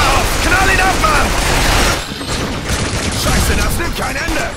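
Dense, continuous gunfire in the PlayStation 3 shooter Binary Domain, a loud sustained fusillade with mechanical clatter that dips briefly midway and then resumes, while a voice speaks underneath.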